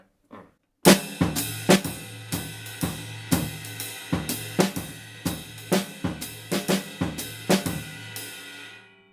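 A drum kit plays a syncopated reading pattern, mixing short snare hits with longer booming bass drum notes in an irregular, steady rhythm, loud and close with no voices.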